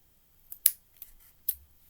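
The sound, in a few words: scissors cutting wool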